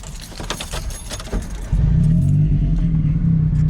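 Keys jangle in the ignition of a 1993 Autozam AZ-1, then the small engine cranks and catches into a steady, loud low idle close by, with no talk.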